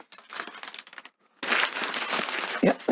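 Packing paper is crumpled and crinkled while knives are unboxed at a desk, the rustling fairly close, softer and broken at first, then louder and continuous with a few sharper crunches near the end.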